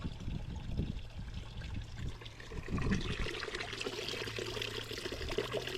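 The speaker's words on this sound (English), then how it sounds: "how much water we took on our little adventure this morning across the lake, and the water got a bit wild because the wind blew up" Water sloshes and trickles inside a small aluminium tinny with a 15 horsepower outboard, carrying four people across a windy, choppy lake. A steady wet pouring and dribbling runs throughout under a low hum, close by and moderate in level.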